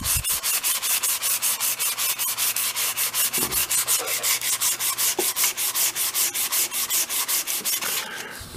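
Sandpaper rubbed by hand along a wooden hatchet handle, a fast steady rhythm of close, loud rasping strokes running throughout with no talk.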